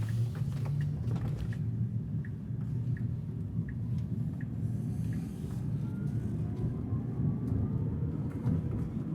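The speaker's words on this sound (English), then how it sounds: "it's pretty much silent aside from the electrical or the electric motors whirring" Tesla Cybertruck electric motors whirring while driving, a steady low hum and road rumble throughout with a faint intermittent high tone repeating above it, no talk.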